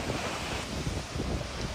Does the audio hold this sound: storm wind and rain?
yes